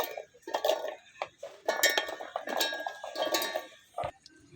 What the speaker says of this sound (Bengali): প্রথমে আমি আলুগুলো দিয়ে দিচ্ছি